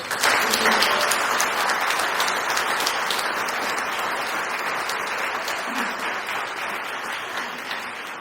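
A large crowd at a retirement celebration for Monique Lefebvre applauds warmly and continuously. The dense clapping is close and strong at first, then fades slightly over about eight seconds.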